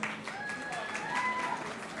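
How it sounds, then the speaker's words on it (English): Applause from a convocation audience for a graduating Electronics and Communication student, a steady wash of clapping throughout with faint voices and a few tonal sounds over it. "Give her a round of applause."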